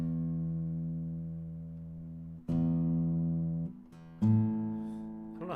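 A guitar is tuned with a tuner. Single plucked notes ring out and slowly fade, then are struck again twice, close and moderately quiet, with no speech.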